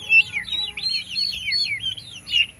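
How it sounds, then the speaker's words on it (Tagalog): A flock of month-old turkey poults peeping close by, with rapid, overlapping high chirps that keep going through the whole short stretch over a quiet background hum. "yung ating mga month old na kakaisang buwan lang nila, itong ating mga pabo"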